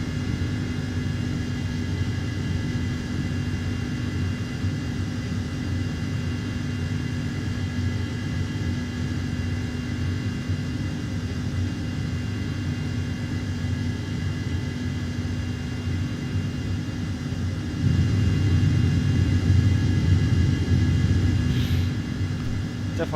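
MD-11 freighter jet engines in the X-Plane 12 flight simulator drone with a steady, loud cockpit roar and deep rumble, swelling slightly louder near the end, with no talking.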